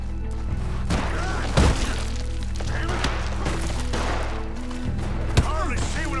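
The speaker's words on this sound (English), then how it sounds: "Hardly see what I'm shooting at." Gunfire in the video game Red Dead Redemption 2, a few sharp shots and impacts crackling over a tense game score, with voices talking intermittently.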